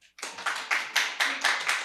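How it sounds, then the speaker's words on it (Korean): Audience members at a Bupyeong civic culture forum clap in a short burst, a near, rhythmic series of about six or seven distinct hand claps. "저한테 박수 치시는 건 아니시죠?"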